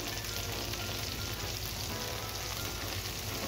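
Champignon mushrooms frying in oil in a pan for braised chicken chasseur, a steady close sizzle with fine crackling that holds evenly throughout, no voices.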